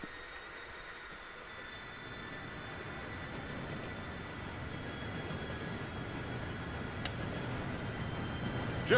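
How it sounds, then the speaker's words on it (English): A train in a Red Dead western game draws near, a faint, steady low rumble that slowly grows louder, with a sharp metallic hit at the end. "Train should be here any minute now."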